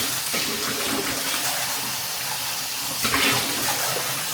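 Hot water runs steadily from a kitchen tap early in the morning, a continuous close hiss and splash that holds even throughout, with a slight surge near the end.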